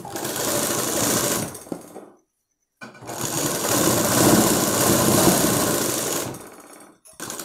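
Electric sewing machine stitching thread piping onto fabric, a steady, loud mechanical whir running for about two seconds, pausing briefly, then resuming for several seconds before stopping.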